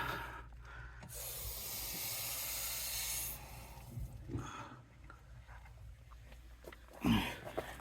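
High-pressure water hisses as it sprays from an RV water line: a steady broadband hiss for about two seconds, then it stops, followed by scattered handling clatter and a brief louder burst near the end.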